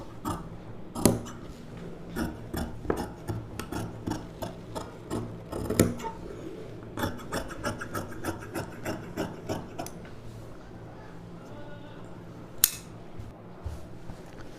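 Fabric being cut with scissors for a puff-sleeve pavadai blouse: a run of close, crisp snipping and rustling cloth in uneven rhythm, with occasional sharper clicks of the blades.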